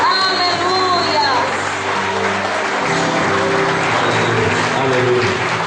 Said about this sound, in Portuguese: Com as mãos para o alto, aplauda Jesus bem forte